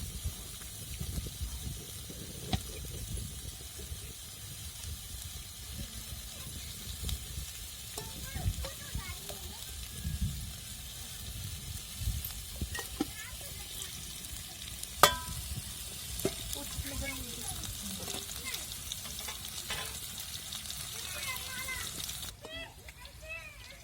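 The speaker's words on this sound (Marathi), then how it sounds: "लालचा कांदा लवकर परतत नाही बरं आता भरपूर लाल झाला" Red onion and green chilies fry in hot oil in a home kitchen while a spoon stirs them, giving a steady low sizzle with scraping stirs throughout, and someone talks over it.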